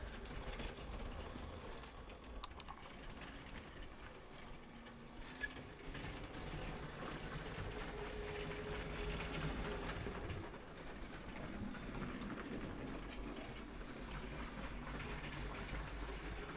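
Faint, steady rumbling whir of a small LEGO toy train running along its track, with light clicks and rattles throughout.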